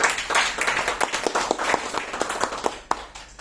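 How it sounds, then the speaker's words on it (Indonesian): An audience claps during a business package sales event, with individual sharp claps standing out within a fairly loud, uneven burst of clapping. "tepuk tangan buat TLE"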